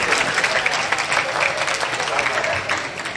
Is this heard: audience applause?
yes